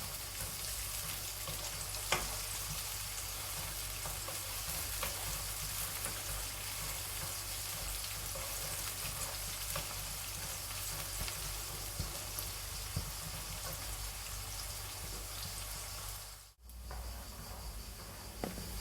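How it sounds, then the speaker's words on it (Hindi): Chopped onions frying and sizzling in a pan, a steady soft crackle that runs unbroken throughout with a brief dip near the end, no voices. "यहाँ पर हमारे प्याज लाइट से ब्राउन हो गए हैं"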